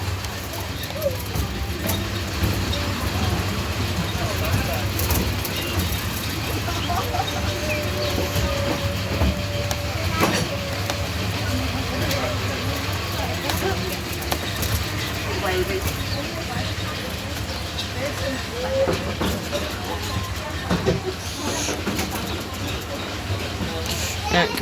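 A North Bay Railway miniature train at Scarborough rumbles steadily along with faint clicks and rattles, heard from on board with birds chirping nearby and people talking over the running noise.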